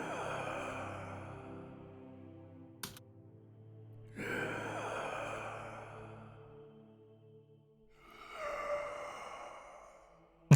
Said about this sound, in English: I like these breathy groans instead of, you know, voice acting.